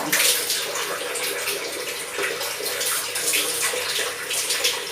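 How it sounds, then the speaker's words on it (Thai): Water running steadily for a bath, a continuous broadband splashing rush that is close and fairly loud with no talk over it. "เมยอาบน้ำแล้วเมยอาบน้ำแล้ว"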